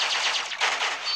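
A sustained burst of rapid energy-blast fire from Cyclops' optic beam in the Marvel Future Fight game, a dense crackling stream that runs steadily the whole time with no voices.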